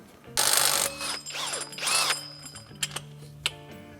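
Metal clicking and ratcheting from a hand tool loosening the idler pulley on a Toyota 2UZ-FE V8 engine, with bursts of ratchet clicks and a few sharp knocks close by, with no talk.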